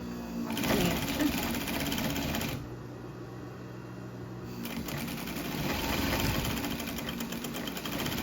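A home sewing machine runs steadily, stitching a seam along a fabric Christmas stocking, its rapid mechanical whir loud and close for about two seconds, pausing, then starting again and running to the end.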